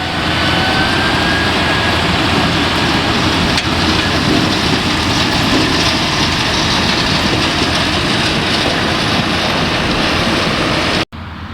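An onion harvesting machine picks up already-lifted onions in a field and loads them straight into a trailer, giving a loud, steady, close-up mechanical roar that runs continuously before cutting off abruptly near the end.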